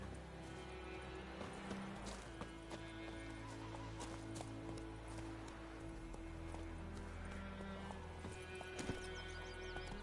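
Roach, Geralt's horse in the video game The Witcher 3, gallops with steady rhythmic hoofbeats over a continuous game soundscape, with a brief whinny and no speech.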